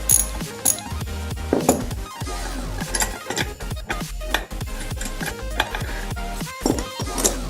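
A flaring tool's screw is backed out, giving close, steady metallic ratcheting and grinding clicks with a few sharper knocks, continuous throughout with no voices.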